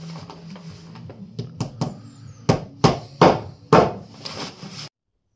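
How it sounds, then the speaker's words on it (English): Hammer driving nails into a piece of wood laid on a floor being prepared for concrete underfloor heating, a string of light taps building to four loud, sharp blows spaced about half a second apart. "we're just nailing to that"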